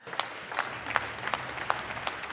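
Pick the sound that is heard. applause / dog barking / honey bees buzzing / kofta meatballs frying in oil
applause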